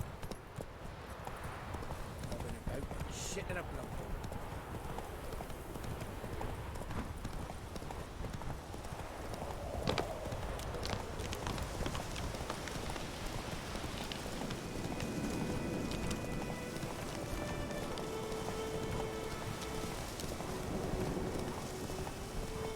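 Roach the horse gallops in The Witcher 3, a steady rapid clip-clop of hooves running continuously and fairly loud, with faint wind and ambient game sounds underneath.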